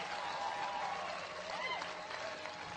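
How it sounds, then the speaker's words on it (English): Audience at a motivational speech breaking into applause, steady dense clapping and crowd noise throughout, with a voice faintly audible underneath. "Get old man a round of applause"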